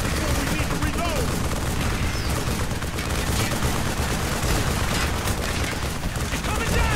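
Boat gunfire in the video game Call of Duty Black Ops, a dense unbroken roar of rapid shooting and explosions, loud and close, with shouted voices under the din.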